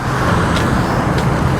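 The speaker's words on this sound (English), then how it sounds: "Hearing only the rumble of the street, the cars." Loud, steady low rumble of cars on a street outside the FBI field office in Redding, California, a continuous close roadway drone with two faint passing hisses and no voices.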